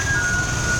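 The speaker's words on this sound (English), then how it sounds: "are famous in Taiwan because they sound like ice cream trucks" Taiwanese garbage truck broadcasting its jingle, which resembles ice-cream-truck music; a steady electronic melody plays on a street, heard briefly and clearly without talk.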